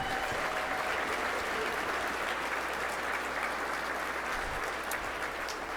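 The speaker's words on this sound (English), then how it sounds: "Big round of applause for the staff." A crowd at a charity champions breakfast applauds the organization's staff, a steady, dense wash of clapping filling the room for several seconds without a break.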